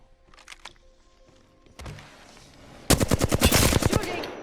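Apex Legends gunfire: a few scattered shots early, then a loud, rapid automatic burst of about a dozen sharp reports fired close by, with no talk over it.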